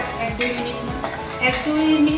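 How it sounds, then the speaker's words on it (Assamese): Onions fry in a pan with a continuous close sizzle while a spatula stirs them, making several scraping strokes and a few metallic taps. "1 মিনিটমান ভাজি ল'ব লাগিব"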